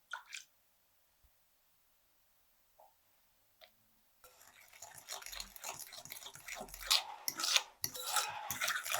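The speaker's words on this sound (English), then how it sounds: "Mix everything together except the flour and the chocolate chips." Matcha batter ingredients, everything but the flour and chocolate chips, get mixed together in a bowl. After a near-silent start with a few faint ticks, steady close scraping and clinking carries on for about five seconds.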